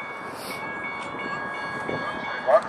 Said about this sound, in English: And there is a streetcar coming.